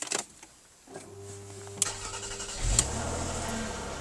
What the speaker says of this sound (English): Just start it up for you.